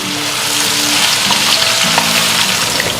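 Sliced onions fry in hot oil for a mutton nalli biryani, making a loud, dense, unbroken sizzle that sits close and steady throughout, with no voices.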